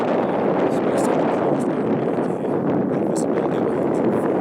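Steady wind buffeting the microphone at Capitol Reef, a continuous broadband rushing roar that stays loud and even throughout, with no one speaking.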